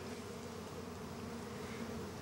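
A wasp buzzes in a steady, continuous drone that holds at an even level for about two seconds before cutting off abruptly. No one speaks.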